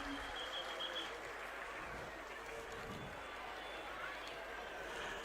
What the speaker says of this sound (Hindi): सभी का जोरदार तालियां बजा के स्वागत और अभिनंदन।